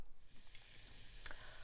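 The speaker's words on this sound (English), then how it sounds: "We've got a large skillet over medium heat, to which we've added a pat of butter, so about a tablespoon of butter. It's just melting right now" About a tablespoon of butter melts in a large skillet over medium heat, giving a steady, soft, close sizzle and light crackle with a few small pops.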